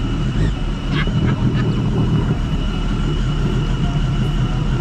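A Sea-Doo RXP-X Stage 4 jet ski engine runs steadily close by, a loud, constant low rumble with a dense drone and no pauses.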